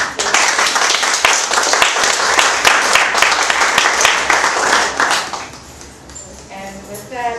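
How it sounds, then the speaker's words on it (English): An audience claps for a guest at a book signing with Tom Burrell, author of "Brainwashed", in a small room at Afri-Ware, a dense wash of applause that keeps going for about five seconds and then thins out and fades. "Let's give her a round of applause."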